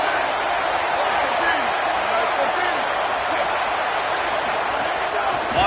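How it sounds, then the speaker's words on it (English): A stadium crowd in an NCAA football video game roars steadily during a late-game third down, a loud, even wash of noise with no distinct cheers rising out of it. "Big third down as the crowd gets behind this defense."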